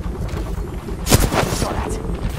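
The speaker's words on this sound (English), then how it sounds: "I'm getting shot!" Gunfire in the battle royale shooter Apex Legends, Arena mode, a loud burst of shots around the middle over a noisy background of game sound, with a player talking nearby.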